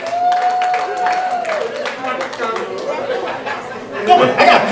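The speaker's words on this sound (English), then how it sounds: "Please, can you clap for that?" An after-party audience claps and chatters, scattered applause rising under lively crowd talk and a speaking voice, getting louder toward the end.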